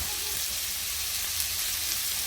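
Vegetables and sausages fry gently in a pan, giving a steady, soft, continuous sizzle with no speech over it.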